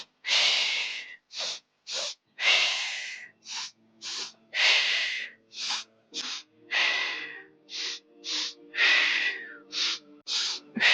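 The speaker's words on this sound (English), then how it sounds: "It's a sniffing breath." Rhythmic sniffing breaths during a Pilates single leg stretch: pairs of short sharp nasal inhales followed by longer exhales, repeating steadily and close, alone without talk.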